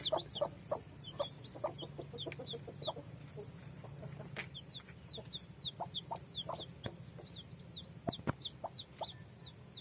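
Several hybrid and native Thai chickens cluck and murmur nearby, with high hatching chick peeps scattered throughout over a steady low barnyard hum.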